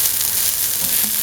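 Garlic and shallots fry in a pan with a dense, bright, even sizzle that holds steady and close for a brief moment, with no voices.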